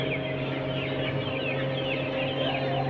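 Australorp and local desi chickens clucking steadily in the background, several birds chattering softly over a constant low hum, with no voices.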